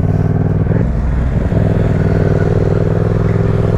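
A loud motorcycle, either a Yamaha MT-07 or a Ducati Monster 600, revs and accelerates through city streets, a dense, steady engine roar that swells slightly as it pulls away, with no voices.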